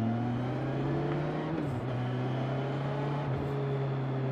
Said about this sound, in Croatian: Zvuk kao da voziš sportski motor